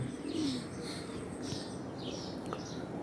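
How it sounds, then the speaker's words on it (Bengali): Young Lahori pigeon chicks cooing softly in a pigeon loft, a few low throaty coos over faint background chirps, quiet and close with no talking. "বাচ্চাগুলোও সুন্দর হয়েছে সেক্ষেত্রে যে দেখেন ডাকতেছে"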